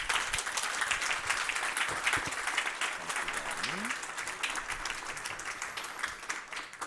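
A live crowd at a museum artist talk gives sustained, steady applause for the artists, dense and even throughout, with a voice faintly audible beneath.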